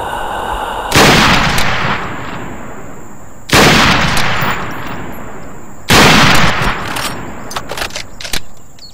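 Three loud, sharp gunshots from an Accuracy International Arctic Warfare sniper rifle, spaced a few seconds apart, each with a long echoing tail. Faint metallic clicks and handling sounds follow the last shot.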